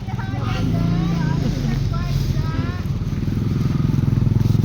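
A motorcycle engine runs close by with a rough, steady idle that pulses more quickly toward the end, while people talk over it.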